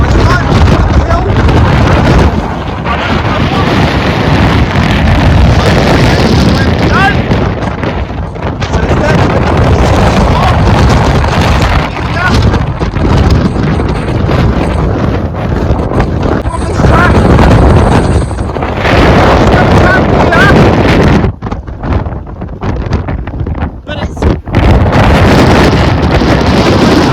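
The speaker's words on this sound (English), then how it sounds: "It is very windy out there." Strong gusting wind buffets the microphone on an exposed hilltop near Yes Tor during a storm, a loud continuous roar with surges and brief lulls, dominating throughout.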